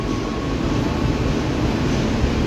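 Damaged airport train from the Poris station incident, moved push-pull between two locomotives: dense, even rumble of rail wagons rolling along the track, loud and unbroken throughout, with no speech.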